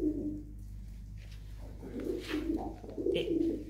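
Pigeons in a loft, some marked with colored dye, give soft, rolling coos, quiet at first and then building into fuller, closer calls toward the end, over a low background hum.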